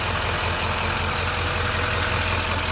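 A 2013 Chevrolet Silverado 2500 LT 4x4 with a Duramax diesel engine idles up close, a steady low rumbling drone with an even, unchanging level and no speech.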